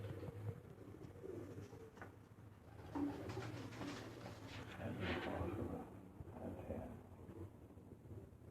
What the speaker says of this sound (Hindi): ये फ्रांसे कबूतरों में से है